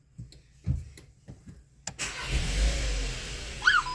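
A Volkswagen car's engine starting up at close range: a few soft clicks and thumps, then the engine catching into a steady idle rumble, with a brief chime near the end.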